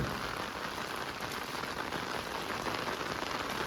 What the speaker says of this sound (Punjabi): ਮੀਂਹ ਨਹੀਂ ਪੈਂਦਾ ਆ ਗਿਆ ਮੀਂਹ